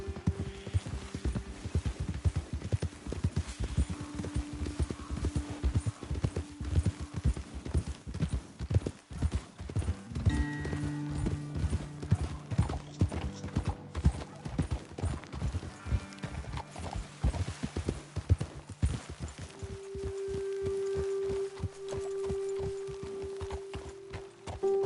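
Steady rhythmic clip-clop of horse hooves walking in Red Dead Redemption 2, close and continuous, with a faint tonal hum and occasional soft voices in the background.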